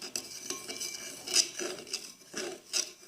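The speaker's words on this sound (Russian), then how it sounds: "Перемешиваю." A spoon scraping and clinking against a plate while stirring baking soda and water, a few close, quiet strokes in an uneven rhythm, no voices.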